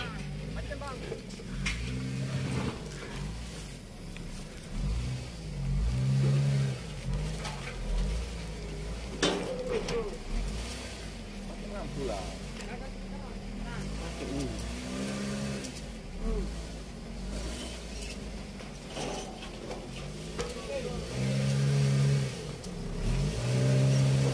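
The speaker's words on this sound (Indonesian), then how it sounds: "Proses loading unit pertama Honda Jazz tujuan Nagan Raya yang akan diberangkatkan malam ini" A Honda Jazz engine idles and revs in moderate, recurring bursts as the car is loaded onto a car carrier at night, with people talking over it throughout.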